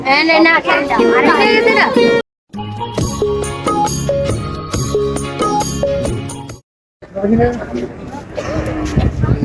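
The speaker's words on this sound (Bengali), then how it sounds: "দেশাল সবই দেশাল সবই দেশাল গরু" Cattle low loudly at a busy livestock market selling small local cows for Qurbani, the drawn-out calls overlapping with crowd voices and nearby chatter, broken by two brief silent gaps.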